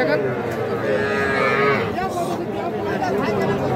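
A heifer calf about six months old lets out a drawn-out moo nearby on a farm, followed by a second shorter low call, with faint voices in the background.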